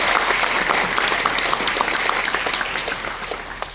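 An audience at a panel event applauds, dense steady clapping filling the room, loud and sustained, tapering slightly toward the end.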